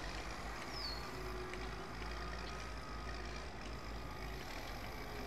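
A tractor engine drones steadily while plowing flat ground in Farm Expert 2017, a constant mechanical rumble with faint intermittent higher tones over it.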